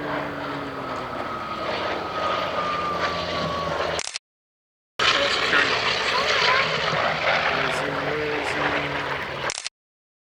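A Corsair F4U propeller fighter, the one with a radome on its right wing, makes fast passes: a loud, sustained engine and propeller drone that breaks off once and returns just as strong, with a voice talking over it.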